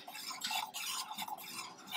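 A spoon stirs melted scented candle wax in a container, a steady close scraping and swishing with faint clinks, alone with no voices.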